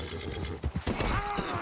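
Horse in the Red Dead Redemption 2 video game, giving a short whinny with hoof clops and stamping, close by, lasting under two seconds amid other game sounds.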